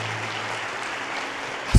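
Congregation applauding Jesus during a Portuguese-language church sermon, a soft steady wash of clapping with one sharp thump near the end.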